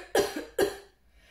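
A Greylag Buster goose call blown hard from the throat and diaphragm gives two short, cough-like honks about half a second apart, close and loud, then fades out.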